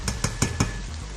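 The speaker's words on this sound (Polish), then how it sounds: "Smażymy dalej." Mushrooms, onion and red pepper fry in a pan with a steady close sizzle, broken by four quick rhythmic stirring scrapes in the first second.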